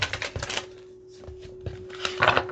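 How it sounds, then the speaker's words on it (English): A mermaid tarot deck is shuffled by hand, giving quick close papery riffles and taps in bursts with a short pause in the middle. "let's shuffle up these mermaid deck"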